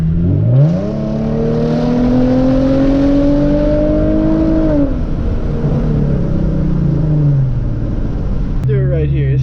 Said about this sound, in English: let's go ahead and try ourselves a little launch right here